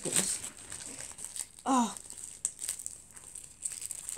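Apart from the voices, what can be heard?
unwrapping tightly wrapped plastic packaging of box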